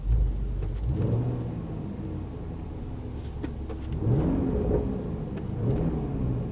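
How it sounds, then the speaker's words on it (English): A 2022 Range Rover Sport SVR Bespoke exhaust with the valves open rumbles nearby through two throttle blips, with light popping crackles between the deep revs. "Does little popples when you open up the valves"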